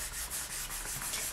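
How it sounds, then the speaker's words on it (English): Sandpaper rubbed over a baked polymer clay bowl in a steady back-and-forth scrape, close and continuous, the grit working between 400 and 1000 for a smooth finish, with no talking. "so just sand from your 400, which I have here, up to maybe your 1000"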